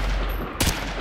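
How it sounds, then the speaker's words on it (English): A single sharp gunshot aimed at a man's leg in Call of Duty: Modern Warfare 2, a loud broadband crack with a short tail, standing out from low game ambience. "Roach, take the shot. Go for his leg."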